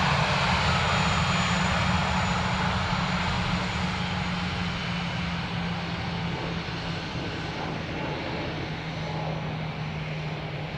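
An Aer Lingus airliner arriving from Prague at Dublin Airport, a steady, loud engine drone with a low hum, gradually fading slightly over several seconds with no one talking.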